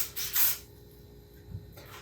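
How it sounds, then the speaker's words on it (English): Lubricant is sprayed from a can onto a bullet sizing die in two short hissing bursts, the first louder and the second fainter, with quiet handling noise between them. "spray it with a little lube,"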